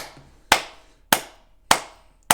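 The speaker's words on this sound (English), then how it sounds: "Round of applause." Four slow, single hand claps spaced about half a second apart, close and sharp with quick decay and near silence between them.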